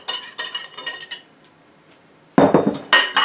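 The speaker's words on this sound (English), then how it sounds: "I need to whisk a little bit more into the pot of gołąbki." Whisk clinking against a pot of hot tomato sauce for cabbage rolls, a quick run of metallic scraping taps, a pause, then another louder burst of brisk clattering strokes close by.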